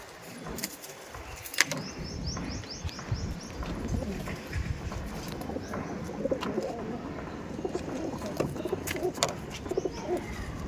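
Giribaj pigeons coo and flutter nearby, soft repeated cooing over a busy outdoor background with scattered clatter and a few sharp knocks, a faint voice now and then.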